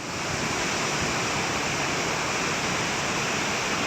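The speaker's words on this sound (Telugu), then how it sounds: "చూడుర్రి ఎంత భయంకరంగా దుంకుతున్నాయో నీళ్లు" Bogatha waterfall in Mulugu district, water plunging hard after heavy rain, heard as a loud, unbroken broadband roar that fills the whole moment with no voices.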